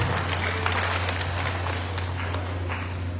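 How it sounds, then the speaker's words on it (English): A church congregation at a Palm Sunday morning service claps in a steady, dense round of applause that stays loud throughout, with a low hum underneath. "let's give God a round of applause"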